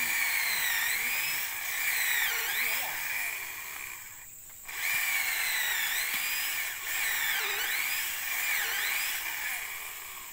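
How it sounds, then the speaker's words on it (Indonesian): A power drill bores into an agarwood tree trunk with a continuous high mechanical whine that rises and falls in pitch, with a brief pause partway through. "Nah, ini kita di sini pengeboran."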